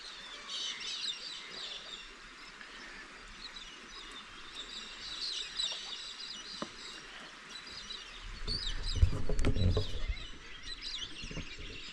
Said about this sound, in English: listen to the birds here